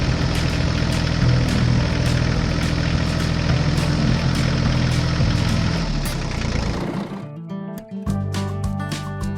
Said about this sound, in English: the tractor slowly drove over the newly paved road, checking its quality